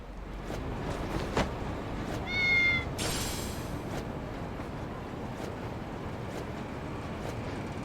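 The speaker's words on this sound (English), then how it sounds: "Kitties." Cats meow in the video game Lost Judgment, a short harmonic mewing cry followed by a brighter burst, set against a steady ambient outdoor bed with wind-like hiss.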